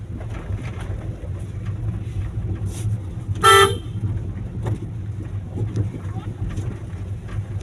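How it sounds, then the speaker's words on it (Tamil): A car horn gives one short, loud honk during a driving lesson on the road, standing out above the steady low rumble of the moving car's engine and road noise. "ஹாரன் அடிக்கிறோம்."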